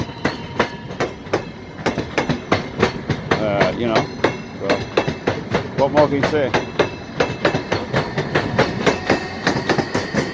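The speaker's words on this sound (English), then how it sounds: "It's a brand new electric train." A brand new electric train runs along rails near Leningrad Oblast, Russia, its wheels clicking over track joints in a steady rapid rhythm with a rumbling roll, loud and close, while someone talks over it briefly.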